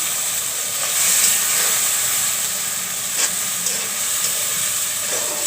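Dried fish frying in a pan with a paste of turmeric, chili, coriander powder and salt gives off a steady, loud, close sizzling hiss that barely changes, with a few faint pops.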